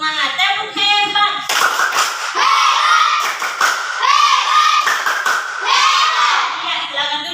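A primary school class does a patterned chant-and-clap cheer, loud children's voices shouting in unison with bursts of sharp hand claps in short rhythmic groups.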